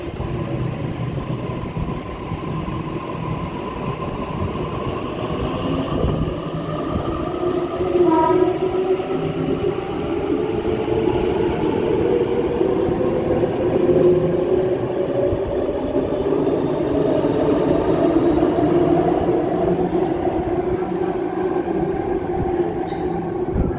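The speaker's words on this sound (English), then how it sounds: "While A69 is arriving into platform 1, A3 is departing platform 4 for Linfield service." A suburban train rumbles into a platform at Chatswood station, its low roar steady and close, with the pitch of the wheels and motors shifting as it slows.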